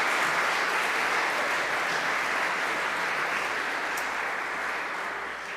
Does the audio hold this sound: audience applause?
yes